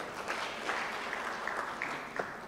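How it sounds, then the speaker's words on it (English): A conference audience at an insolvency event claps for a presenter, a soft, distant round of applause with scattered individual claps standing out. "I'll request you to clap for him again."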